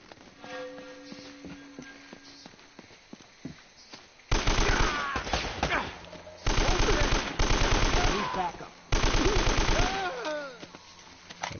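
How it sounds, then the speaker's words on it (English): AK rifle fire in the video game Uncharted: Drake's Fortune: several loud bursts of automatic gunfire, each a couple of seconds long and separated by short gaps, after a quieter stretch of game ambience. "I'm gonna hit fire with the AK this time then."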